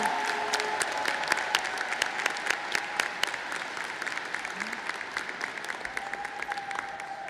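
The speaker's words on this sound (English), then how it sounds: "One more time, please, for a round of applause for the National Anthem and the Senior Farewell Song." Sustained applause from a large crowd at a Livonia Churchill High School commencement ceremony following the national anthem and senior farewell song, steady dense clapping throughout with no voices over it.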